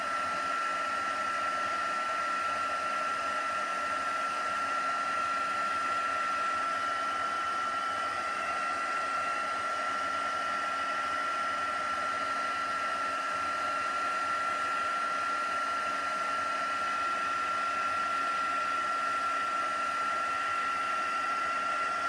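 A hair dryer blows steadily on Christmas craft pieces to dry small damp bits, a constant close airy whoosh with a fixed whine that runs unbroken and alone throughout.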